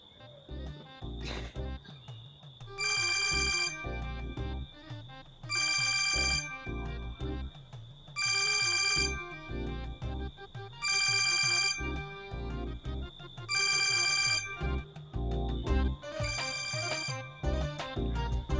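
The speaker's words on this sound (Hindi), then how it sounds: "ये तेरे फोन को आराम नहीं है?" A phone ringtone rings in repeated bursts, roughly every two to three seconds, loud and tonal over a steady electronic hum.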